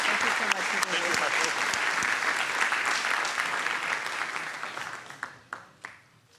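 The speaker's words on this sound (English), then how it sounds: "a round of applause for Daron" Conference audience applause for a keynote speaker fills the hall as a thick, even roar of clapping that thins toward the end into a few scattered, separate claps.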